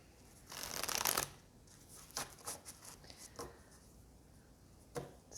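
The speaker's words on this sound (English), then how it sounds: "I will put this judgment card in with the others, and we will shuffle" A deck of tarot cards is shuffled close by: a dense riffling burst at first, then several shorter scattered flicks and taps, with a faint room hiss underneath.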